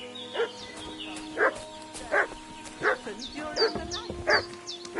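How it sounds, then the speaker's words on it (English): A dog in Kingdom Come: Deliverance 2 barks repeatedly at a steady pace, about seven sharp yips and woofs over a faint game ambience with a steady background hum. "What's that dog making such a fuss about?"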